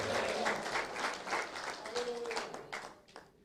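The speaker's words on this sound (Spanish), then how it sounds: "Dele fuerte el aplauso al Señor." Church congregation applauding the Lord during a Spanish-language worship service, dense steady clapping from many hands, loud and close, with a voice calling out over it and the clapping tapering toward the end.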